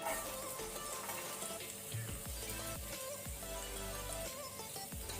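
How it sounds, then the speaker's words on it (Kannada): Cumin seeds and garlic fry in hot oil on a low flame, a steady close sizzle with occasional stirring scrapes throughout. "ಅದನ್ನು ಸ್ವಲ್ಪ ಲೈಟ್ ಕೆಂಪಾಗೋ ತನಕ ಫ್ರೈ ಮಾಡ್ಕೊಳ್ಳಿ, ಲೋ ಫ್ಲೇಮ್ ಅಲ್ಲಿ."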